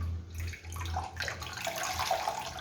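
Water squeezed from boiled potatoes wrapped in a cloth, a continuous close trickling and splashing into a vessel that swells partway through, with no talk.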